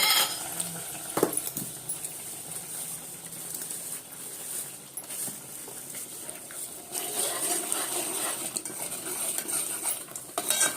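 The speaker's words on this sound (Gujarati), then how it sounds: "તો અહીં આગળ પહેલા ડુંગળી શેકે છે." Onions roasting in a pan for an appam breakfast, with steady stirring and scraping of a utensil against the pan and a soft sizzle underneath, continuous and close throughout with no talk.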